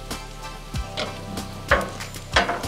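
Egg for a hash brown omelette cooking on a Blackstone griddle, with soft sizzling under a few sharp scraping or tapping knocks from a spatula, close and fairly loud, no talk.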